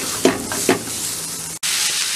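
Minced garlic and chopped onion sizzle steadily in hot oil for a head-meat dish, a dense close hiss broken by two short scraping stirs and a brief near-silent dropout before the frying resumes.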